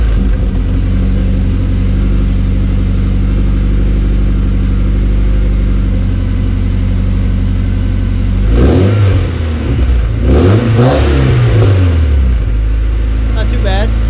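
A Lexus LS 240's engine idles steadily, then revs twice in quick succession through a freshly repaired exhaust, loud and close.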